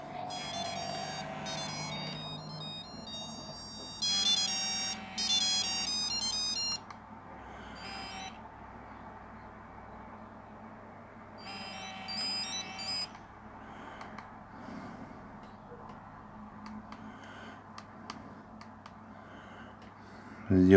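Retro Nokia 7373 mobile phone playing several short electronic ringtone melodies in bursts of bright beeping tones, separated by quieter stretches with faint background noise.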